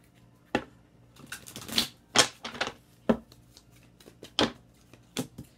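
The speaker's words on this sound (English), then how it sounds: "Let's get one more shuffle." A deck of tarot cards is shuffled by hand in a quiet room, with a series of sharp riffling and slapping bursts at irregular intervals and no talking.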